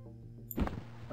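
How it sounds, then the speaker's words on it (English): A low mechanical hum gives way to a heavy grinding, sliding rumble as a door opens, fairly close. "I wonder if that's the sound of the door opening up"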